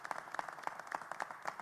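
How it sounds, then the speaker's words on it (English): An audience at a Philadelphia mayoral press event applauds with steady, evenly spaced claps, faint and somewhat distant, continuing through the whole moment without talk over it. "Let's give them a huge round of applause."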